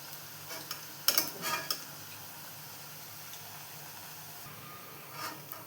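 Masala dal chips frying in oil are lifted out, giving a faint, low sizzle under a short cluster of light clicks and scrapes from a utensil, with one more soft scrape near the end.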